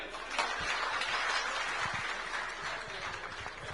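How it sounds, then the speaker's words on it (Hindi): Audience applause at a district law-and-order discussion with the SP and Collector in Ambikapur, a dense steady patter of many hands clapping throughout, fairly loud with no voices over it. "एक बार जोरदार तालियां।"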